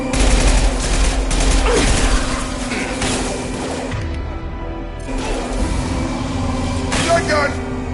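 Shotgun blasts ring out in the video game Mass Effect 2, several loud bursts of fire mixed with a steady machine hum and in-game voices talking over the gunfire.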